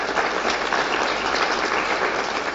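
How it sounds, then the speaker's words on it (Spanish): A large audience at an awards ceremony for migrant women gives a strong, steady round of applause, a dense, continuous roar of many hands clapping at once, loud and close throughout with no speech over it. "Le damos un fuerte aplauso."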